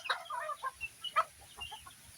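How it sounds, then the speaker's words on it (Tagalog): Hens with five small chicks on a farm give a run of short, close clucks and soft chirps in quick, uneven bursts, with no talking. "Yan po yung ating mga babae na manok na may mga sisiw."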